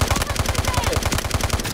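Rapid, loud, evenly spaced gunfire bursts from a sniper weapon in the mobile shooter game Delta Force Mobile, forming a dense rhythmic volley that fills the short span.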